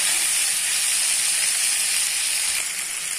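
Chopped onions and ginger frying in hot oil for tomato chutney, a dense, steady sizzle and hiss that fills the whole moment at close range, with no talking.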